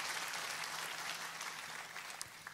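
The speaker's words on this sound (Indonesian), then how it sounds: "Boleh tepuk tangannya yang paling meriah buat Yesus Tuhan kita." A church congregation applauds for Jesus during a sermon, steady broadband clapping filling the room for a few seconds, fairly faint and distant.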